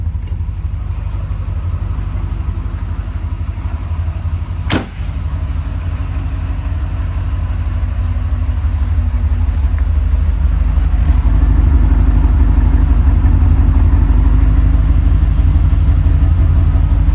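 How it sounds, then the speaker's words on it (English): A 1984 Chevrolet Corvette C4 idles at the tailpipes, giving a steady, subdued low exhaust rumble that stays close and continuous and grows slightly fuller toward the end, with no talk over it. "Lovely subdued rumble coming out from underneath this C4."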